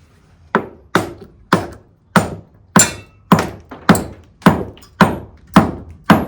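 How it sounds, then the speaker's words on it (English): A hammer strikes a stone wall in about ten evenly spaced, hard, close blows, each a sharp crack with a short ringing decay. "Could I have the hammer, please?"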